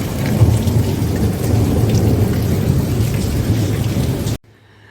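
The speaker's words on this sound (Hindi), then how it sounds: "बादल भी गरज रहे हैं।" Deep, rolling thunder rumbles steadily over a rainstorm, loud and continuous, then stops abruptly.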